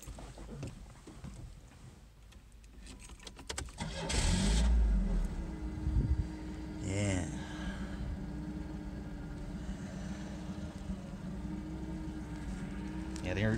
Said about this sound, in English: let's see how she sounds